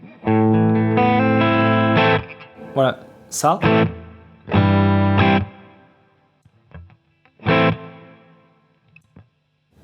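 Electric guitar played on a clean channel through a pedalboard with reverb, sustained chords ringing in bursts with pauses, a brief voice cutting in between phrases.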